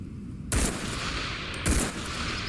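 Two guns fired at once in a video game, heard as two loud, sharp bursts about a second apart, each trailing into a dense, noisy ring that fills the gaps between them.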